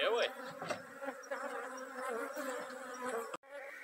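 Bees buzz thickly at an apiary, a dense droning swarm close to the microphone with individual insects whining past, continuous throughout.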